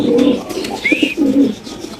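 Close, clear cooing from pigeons kept at a home loft, several rounded, throaty coos in quick succession with a brief higher chirp between them, loud and alone.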